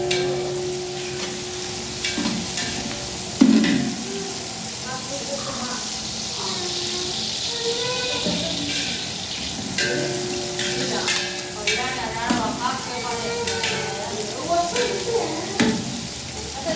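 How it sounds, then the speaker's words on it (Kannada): Fenugreek leaves sizzle and fry in oil with mutton, a steady crackle with scraping stir strokes and a few louder clatters. "ಮೆಂತ್ಯ ಸೊಪ್ಪು ಹಸಿದು ಇದು ಚೆನ್ನಾಗಿ ಎಣ್ಣೆ ಒಳಗೆ ಫ್ರೈ ಆಗಬೇಕು"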